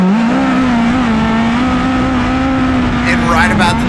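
A race car screams along a private speedway test track at full throttle, its steady high engine drone loud and close throughout, with a brief burst of tire or mechanical noise near the end.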